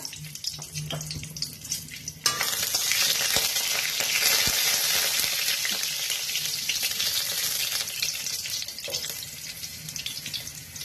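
Nigella seeds and green chilli tempering in hot oil after an egg was fried, sizzling loudly and steadily after a short quieter start, with a constant hissing crackle.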